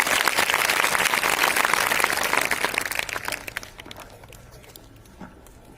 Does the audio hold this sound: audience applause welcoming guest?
yes